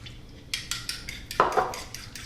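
A fork whisks eggs with milk in a bowl, a quick series of about eight rhythmic clinking taps against the side, close and fairly quiet, without speech.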